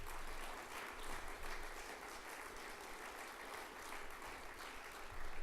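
Audience at a green tourism awards conference breaks into sustained applause, a dense steady clapping from many hands filling the room for several seconds without talk.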